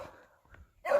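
A dog barks in a short, loud burst close by at the end, after a quieter stretch with faint murmuring and a soft sound midway.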